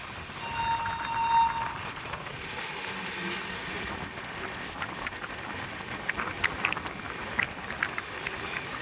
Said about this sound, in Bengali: গাড়ি ঢুকছে এখন আমাদের ইউপির ফাজলপুর স্টেশনে